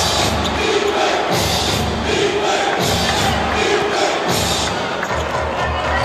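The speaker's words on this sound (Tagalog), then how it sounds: "that's a way for you to get the crowd going here in Batangas" A packed basketball arena crowd in Batangas roars loudly and continuously, with swelling rhythmic waves of cheering and chanting.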